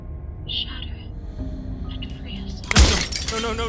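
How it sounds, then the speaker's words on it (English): Glass shatters in the video game Slay the Princess, a sudden loud crash near the end that spills into a bright tinkling spray of fragments after a quiet stretch with soft tones. "But his pleas disappear at the sound of breaking glass."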